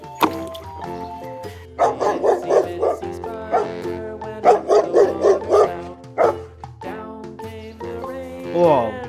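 Toy animal sound of a black dog barking, a series of bright, evenly spaced electronic barks in two bursts with whimpering yips between, followed by a short rising whine.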